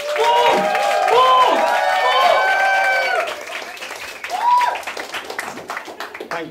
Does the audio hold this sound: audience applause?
yes